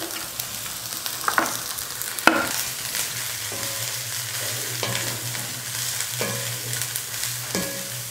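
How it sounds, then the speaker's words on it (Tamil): Cabbage stir-frying in a pan with sautéed onions, a steady sizzle broken by scraping spatula stirs and occasional sharp metal clicks, close and continuous with no talk. "வெங்காயம் வதங்கினதும் முட்டைக்கோஸ் சேர்த்துக்கலாம்."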